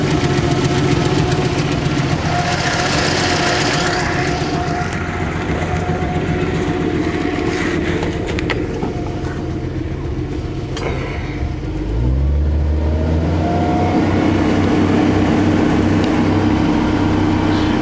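A Ford Fairmont car engine cranks, catches and settles into a steady idle, its low rumbling drone loud and close, with the pitch dropping and steadying near the end.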